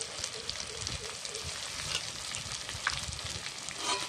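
Coriander, cumin and ginger-garlic pastes frying together with chilli powder make a steady, even sizzle with faint crackles, close and alone.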